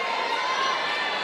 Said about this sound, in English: Canton players are cheering like they got the point